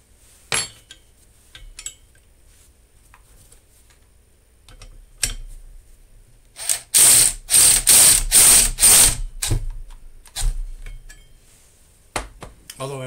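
A Taiwanese-made Craftsman socket ratchet clicks in one quick rapid burst after a few scattered taps and handling knocks, close up in a quiet space.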